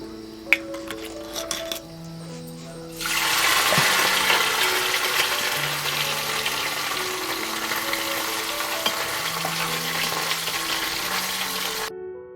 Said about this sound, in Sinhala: පොල් තෙල් ටිකක් දාලා කරවල ටික බැද ගන්නවා.